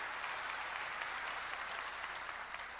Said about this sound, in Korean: 박수로 하나님께 영광을 돌려합니다